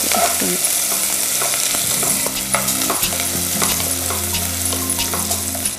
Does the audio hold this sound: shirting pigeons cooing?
no